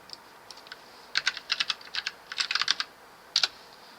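Typing on a computer keyboard while writing code, quick clusters of light, crisp key clicks in irregular bursts with short pauses, close by and fairly quiet, and no one talking.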